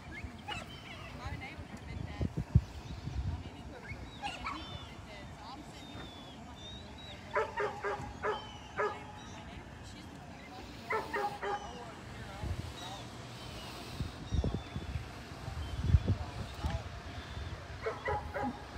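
A small dog barks outdoors at a tornado-damaged home in the southern United States, giving repeated clusters of sharp yips at a moderate distance amid steady background noise, while people talk.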